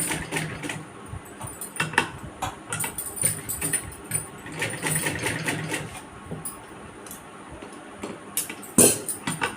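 A sewing machine runs steadily, stitching a phone cover made from old denim jeans, its fast rhythmic needle chatter continuing close and clear with small pauses and one sharp click near the end.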